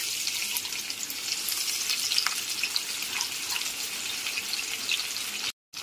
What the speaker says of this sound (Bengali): গ্যাসের ফ্লেমটা মিডিয়ামে রেখে পেঁয়াজ কুচিগুলো ভেজে নেব